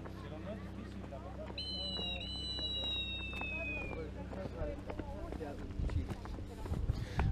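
A clay Aztec whistle, sold at the pyramids, gives a rising then gliding shrill call imitating a jaguar and an eagle, sounding a few seconds over a busy outdoor crowd.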